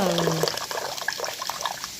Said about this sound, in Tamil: நம்ம ஒரு பாத்திரத்தில் புளி தண்ணியை நல்லா வடிகட்டி எடுத்துப்போம்